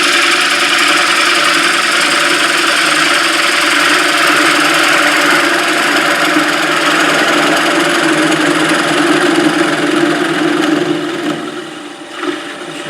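A wood lathe spinning while a 3/8 bowl gouge cuts a shallow concave bottom into a wooden bowl, producing a loud, steady mechanical whir with a faint scraping edge that dips briefly near the end.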